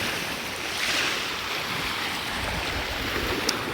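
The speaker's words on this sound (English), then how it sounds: "You like these waves coming in?" Ocean waves coming in, a steady broad wash of surf with wind rumble on the microphone, loud and continuous with no talk.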